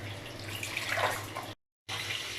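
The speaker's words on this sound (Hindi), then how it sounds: "और इसके अंदर मैं ऐड करूँगी पानी।" Water runs steadily into a cooking pot holding potatoes, making a close, even rushing hiss. It breaks off briefly, then resumes.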